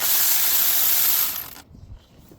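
A ratchet loosens 8mm bolts on the water pump of a 2015 Ford F150 3.5L engine, a loud, fast, continuous whirring click up close that stops abruptly and leaves a faint knock.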